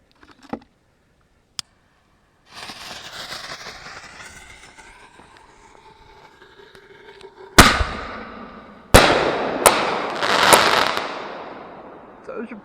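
Monkey Mania firework ball shells, single and triple, fired outdoors: a faint pop and launch thump, a long rushing hiss, then several loud sharp bursts with crackling tails in quick succession.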